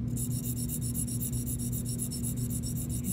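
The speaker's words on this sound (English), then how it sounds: "using the Arkansas oil stone. So again, I started at 90 and then I open to 110 and just sharpening until I get sludge." Steady rhythmic rasping strokes of a dental hygiene instrument being sharpened on an Arkansas oil stone, a close, even scraping repeated at a regular pace with no talk.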